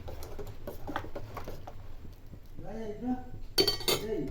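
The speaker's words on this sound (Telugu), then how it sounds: "వెంటనే ఇలా తిప్పండి, లేదంటే అడుగుంటుతాయి అన్నమాట." Sago and vermicelli payasam is stirred in a pot, giving soft close scraping and clinking of a spoon against metal, with a voice talking and a sharp burst of clatter near the end.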